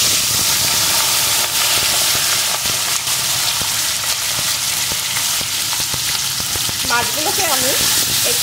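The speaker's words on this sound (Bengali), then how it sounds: "এখন তেলের ভিতরে লবণ হলুদ মাখানো ছোট মাছগুলোকে দিয়ে দেব।" Small fish coated in salt and turmeric hit hot mustard oil and fry with a loud, roaring sizzle and spitting crackle that holds steady close by, with a brief faint tonal sound near the end.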